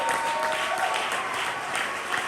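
A poetry slam crowd applauds a poet after scores are read, a loud, steady wash of many hands clapping, close and unbroken, with a few cheers mixed in.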